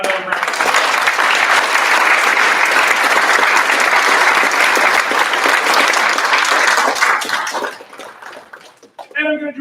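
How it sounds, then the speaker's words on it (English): A high school band concert audience in an auditorium gives loud, sustained applause for about eight seconds before it fades, with a voice speaking near the end. "So please give them another round of applause."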